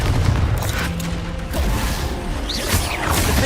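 Confringo fire spell explosions in the video game Hogwarts Legacy: loud, dense blasts and crackling bursts with whooshing debris, continuous and close, with no pause.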